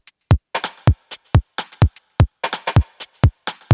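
A programmed drum groove on an Endorphin.es drum machine, punchy kicks and snappy hits layered with short bursts of gritty, textured noise, repeating in a steady rhythm with no voices.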